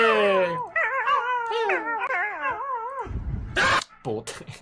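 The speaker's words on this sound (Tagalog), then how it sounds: "Ah, doggy!" A dog howls and whimpers in long, wavering, sliding cries, close and loud, followed by a sharp yip and a few short noisy bursts.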